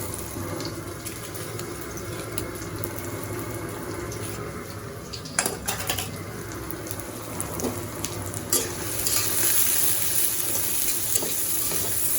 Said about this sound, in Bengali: এখন আমি এই যে রসুন পেঁয়াজ কাঁচামরিচ এই যে তেলের মধ্যে দিয়ে দিলাম।